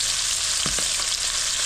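Oil sizzling hot in a pan, a steady loud hiss holding throughout with a couple of faint knocks near the middle, no talk.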